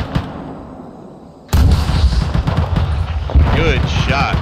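Heavy gunfire in the military video game Arma 3, with a .50 cal machine gun hammering in sustained bursts alongside rifle shots, loud and close, while voices call out over the shooting.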